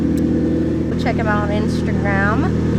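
A car with an aftermarket exhaust idles and warms up in cold weather, a steady loud low rumble throughout with someone talking over it.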